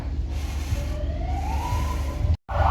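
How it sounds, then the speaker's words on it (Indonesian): A wooden ferry at a busy lake harbour sounds its siren as a thin rising tone over steady engine rumble and crowd noise, which breaks off with a short gap before the noise returns. "kapal kita sudah bunyi sirenenya"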